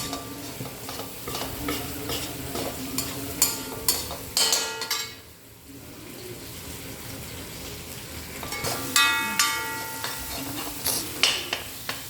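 Green beans coated in masala fry in a pan while being stirred, giving soft sizzling under intermittent scraping and clinking strokes, with a brief quieter pause midway.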